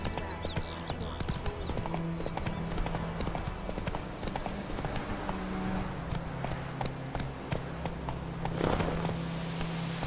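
Roach, a horse in the video game The Witcher 3, gallops with quick, continuous hoofbeats over game music and ambience.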